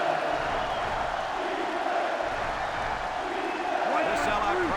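Steady stadium crowd roar from a sellout audience in the NCAA Football 2005 video game, a Virginia Tech versus Duke college football matchup, a continuous dense wash of noise with no distinct cheers or claps standing out.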